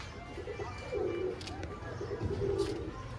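Faint pigeon coos rise in two soft bursts over a low, noisy background, with a few brief scratchy sounds in between.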